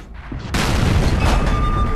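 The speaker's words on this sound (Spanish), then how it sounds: "Ese disparo ha ido bajo, a pesar de que tenía la torreta girada ha ido bajo" A tank cannon fires in World of Tanks, a single sharp blast at the half-second mark after a quiet lead-in, followed by a long rumbling decay with the noise of battle.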